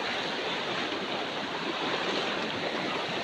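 Fast, heavy floodwater current rushing past a cracking road during a flood in Gopalganj, a dense and steady roar with no break, close and loud.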